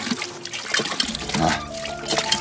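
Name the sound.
water poured while washing hands for ablution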